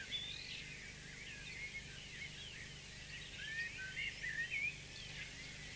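Wild birds chirp faintly near a lonely up platform on a rural railway line, with scattered high calls growing busier toward the end over a low, steady background hum.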